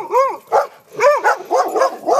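Several dogs bark close by in quick repeated bursts, some yelping and whiny, five or six barks in a row.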